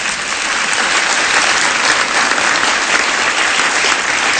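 Audience applause for Madeleine Albright at a comedy roast, a dense, steady burst of clapping filling the room throughout, loud and sustained with no voices over it.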